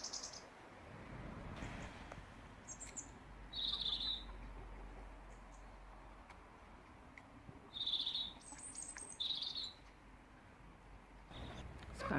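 Sparrows chirp in a garden at breakfast time, with a few short, bright bursts of calls spaced across the clip over a steady, low background hum.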